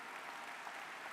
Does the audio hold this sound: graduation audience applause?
yes